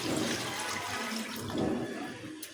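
Water is poured steadily into a pot of beef curry with jackfruit seeds, a continuous rushing, splashing pour lasting a couple of seconds without speech.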